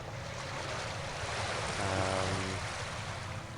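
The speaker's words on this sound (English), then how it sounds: "I know, the water's so loud, I agree." Loud rushing water in the game Arcanum, a constant surf-like wash of broadband noise with a brief low droning tone swelling in the middle.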